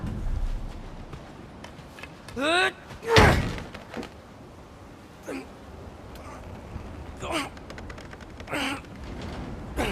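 A frozen door is slammed and forced open in the video game God of War Ragnarök, with heavy thuds and creaking impacts amid game voices and ambient sound.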